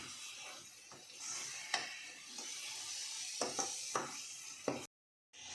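Tamarind leaf chutney frying in a pan, a steady soft sizzle with scattered light scraping and stirring clicks, close up, ending in a brief silence.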